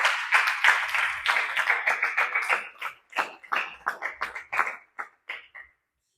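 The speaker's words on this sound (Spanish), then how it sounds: "Give the Lord a hand of praise." Congregation at a church sermon gives a short round of applause, a thin scattering of claps that grows sparser and dies away to silence.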